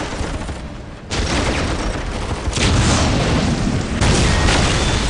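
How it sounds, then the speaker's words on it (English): Orc artillery fire in the Dawn of War video game, a steady barrage of heavy booms and crackling blasts that swells louder partway through and keeps rumbling without pause. "We will silence that Orc artillery"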